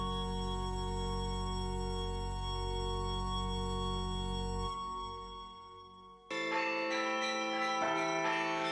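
Church carillon bells ring with sustained, layered tones that briefly fade and then return with a fresh round of strikes, moderately loud with no voices.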